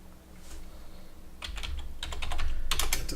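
Password typed on a computer keyboard, a quick burst of close, light key clicks after a quiet start, no talk.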